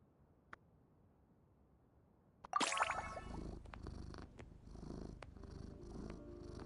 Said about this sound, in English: It's a big ass cat.